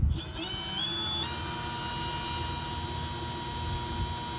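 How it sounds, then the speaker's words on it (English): A high-pitched power drill whines steadily while drilling holes on a boat, its motor pitch rising early then holding, with no voices. "And just started drilling the holes."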